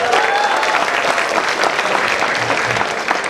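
Crowd at a Jakarta governor candidates' debate on health programs claps for candidate Hidayat Nur Wahid, full, steady applause filling the hall, a voice briefly audible early and a low murmur near the end.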